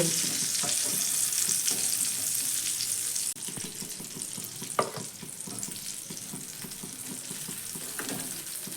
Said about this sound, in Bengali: তারপরেই বাকি বেগুনগুলোকেও আমি একইভাবেই ভেজে নেব